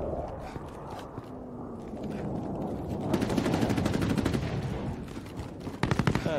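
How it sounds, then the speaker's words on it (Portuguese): Rapid gunfire in Call of Duty Warzone on Xbox One S, repeated automatic bursts and single shots crackling over game ambience, growing denser and louder in the middle and ending in sharp close bursts. "Estão atirando em mim!"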